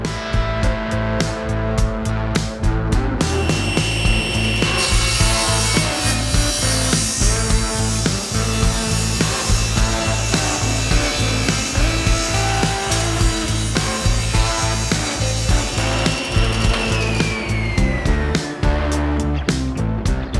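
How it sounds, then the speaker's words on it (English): A table saw cuts through wood with a loud, sustained whine, its steady motor tone overlaid with rhythmic rasping and chattering from the blade biting the board, lasting nearly the whole clip with no talk. "we're going to let the table saw do that work for us"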